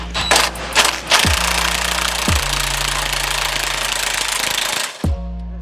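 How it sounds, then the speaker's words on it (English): An air impact wrench with a socket runs a nut down in loud rattling bursts, three short hammering runs separated by brief pauses, close up in a garage while air suspension is being bolted on. "take that rattle gun with that socket and run this one down as far as you can"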